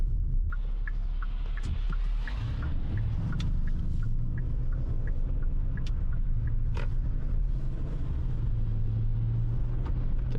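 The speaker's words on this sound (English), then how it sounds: "Getting a little bit of wheel spin off the line there" A Hyundai Palisade SUV pulls away on slippery snow with some wheel spin, a steady low engine and tire rumble heard from inside the cabin, with faint repeated ticking sounds over it.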